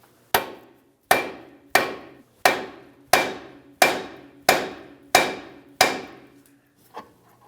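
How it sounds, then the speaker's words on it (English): Hammer striking a steel steering knuckle to free the tie rod end on a 2006-2012 Ford Fusion: nine sharp metallic blows at an even pace, each ringing out briefly, then one lighter tap. "when I tap on this knuckle, the tie rod will come down"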